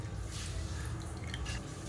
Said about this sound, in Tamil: இப்போ மிக்ஸி அலசிட்டு அதை தண்ணியை சேர்த்துக்கலாம்.